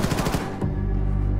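A heavy-recoil gun in Wolfenstein II fires a rapid burst of about eight close, loud shots over half a second, then a booming low rumble lingers and hums to the end.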